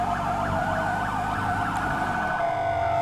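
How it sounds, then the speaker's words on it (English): A police car siren wails in the video game FivePD, a loud steady up-and-down yelp repeating at a quick even rhythm, alone with no talk. "These AI are not listening to sirens at all."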